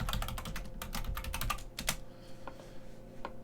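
Quick, close keystrokes on a computer keyboard as a password is typed, a dense burst of clicks that slows to a few scattered taps.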